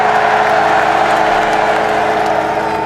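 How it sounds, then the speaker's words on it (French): A large crowd at an outdoor political rally at the Trocadéro in Paris, a loud continuous roar of applause and cheering from many people, steady and dense without a break. "Applaudissez-le."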